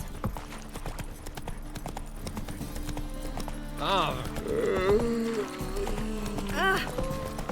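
Steady clip-clop of Roach the horse's hooves in The Witcher 3, running under background game music and voiced dialogue.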